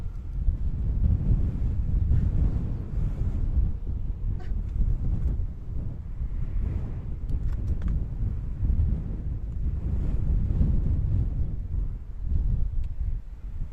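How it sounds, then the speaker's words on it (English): Strong gusts on a small mountain near Ayia Napa, Cyprus, buffet the microphone with a constant low rumble that swells and eases, loud and uninterrupted. "It's getting very, very windy indeed."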